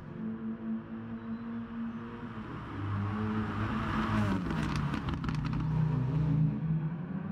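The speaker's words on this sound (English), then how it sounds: "cars sound lovely, don't they?" Racing cars in the Gran Turismo video game roar past with engines revving, a layered, rising and falling drone that swells louder partway through as the pack closes in.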